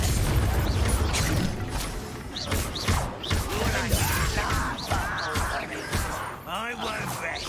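Spell blast blowing up an enemy in Hogwarts Legacy, a series of loud bursting booms and pops amid busy game effects, with someone talking over the action throughout.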